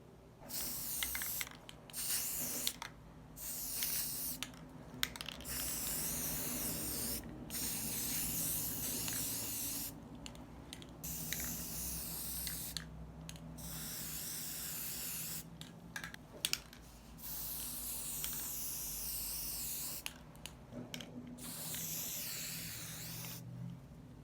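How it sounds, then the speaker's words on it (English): Aerosol spray paint hissing onto candle holders, repeated bursts of several seconds each with short pauses between, close and steady, no talk. "I'm going to go ahead and get these 2 spray painted"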